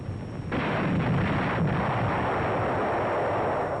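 A WWII armoured vehicle's gun fires a heavy artillery blast, which rolls into a long, loud rumbling boom. A second thud follows about a second later, and no speech is heard.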